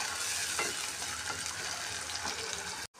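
Tomatoes frying in a pan with golden brown onions give a dense, continuous sizzle, with a few soft stirring scrapes, before cutting off abruptly at the end.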